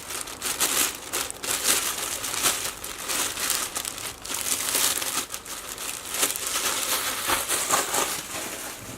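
Plastic packaging crinkles and rustles steadily as a new Selle Italia bike saddle is unwrapped, close and busy with no pauses.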